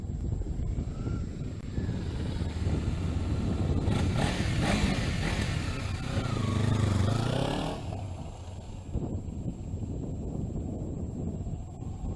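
A Kawasaki Ninja 300 motorcycle with an aftermarket Area-P full exhaust roars up in a sustained rev, rising and swelling for a few seconds before dropping back to a rough idle, with wind buffeting the microphone.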